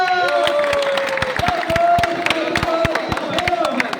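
Audience at a safety-themed play staged at an L&T company site claps and cheers, a dense crowd roar with scattered sharp claps and a sustained voice or whistle-like tone riding over it, fairly loud and close.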